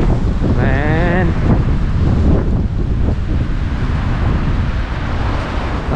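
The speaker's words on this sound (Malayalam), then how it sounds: "നല്ല അടിപൊളി കാറ്റുണ്ട് കേട്ടോ അവിടെ" Strong wind buffets the microphone in a steady, loud roar on a cold overcast day, with faint talk partly buried beneath the gusts.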